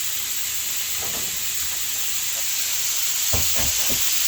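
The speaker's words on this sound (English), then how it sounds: "Sizzle, sizzle, sizzle. Look at the sizzle." Steady broadband sizzling hiss from bananas frying in a pan, with a few brief clinks and stirring knocks near the end.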